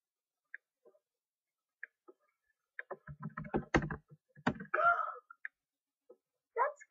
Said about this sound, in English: I hate your keyboard.